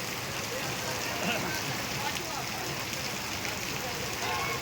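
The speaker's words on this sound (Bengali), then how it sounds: "কত জোরে বৃষ্টি হচ্ছে তোমাদেরকে দেখাচ্ছি" Heavy rain pours down in Bhaluka as a steady, dense, close hiss that holds without a break.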